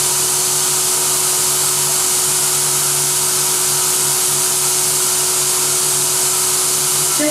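A Versaspa automated spray tanning booth nozzle hisses steadily and evenly, a continuous broadband spray of tanning solution with a low mechanical hum underneath, no voices.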